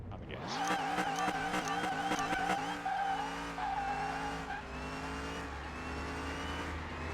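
In a video game drag race, a 1936 Fiat 500's engine revs hard up front, wavering through quick gear-change steps under tire squeal, then settles into a sustained loud drone.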